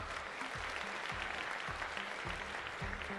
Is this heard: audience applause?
yes